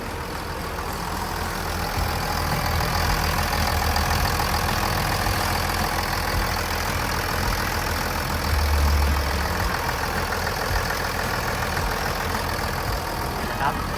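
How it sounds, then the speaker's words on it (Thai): A Caterpillar 924G wheel loader's diesel engine idles steadily close by, a continuous low rumbling drone with a slight rise in loudness partway through. "เสียงเครื่องเนี่ยก็ทำงานได้แน่นนิ่มดีปกติเลย"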